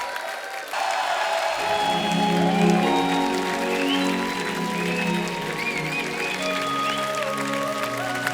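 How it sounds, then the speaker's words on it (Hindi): Studio audience applause for Purvi after her stage performance with a group of children on a TV comedy show, a steady wash of clapping that holds throughout beneath bright sustained music. "एक बार जोरदार तालियां पूर्वी जी के लिए"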